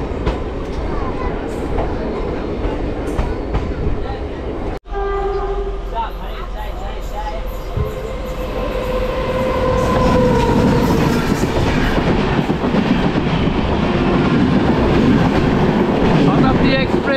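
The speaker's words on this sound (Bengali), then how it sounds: "এই হচ্ছে বোলপুর ছেড়ে বেরিয়ে যাচ্ছে আমাদের ট্রেন" A local train pulling out of Bolpur station, loud rumbling and rattling of carriages building steadily after a brief cut, with horn-like tones and clatter continuing to the end.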